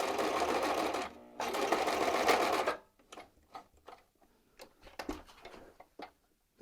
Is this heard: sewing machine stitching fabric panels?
yes